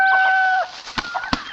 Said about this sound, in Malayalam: കോഴി മുയിക്കണുണ്ടോടി? മുയിക്കണുണ്ട്.